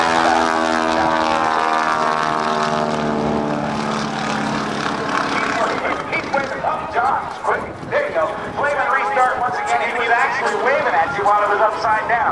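A 1943 Stearman biplane's propeller engine drones through an aerobatic pass at the 2008 NAS Oceana Airshow. The loud harmonic roar fades partway through while an announcer talks over it.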